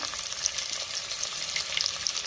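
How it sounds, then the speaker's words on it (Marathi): Onion dropped into a hot pan for masoor pulao, sizzling and frying with a bright, crackling hiss that stays steady and close throughout, with no talking. "आता आपण कांदा घालूया।"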